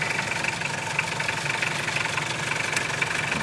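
A Clark Michigan loader's 24-volt diesel engine idling close by, a steady rough knocking rumble with even rhythmic pulses and no voices.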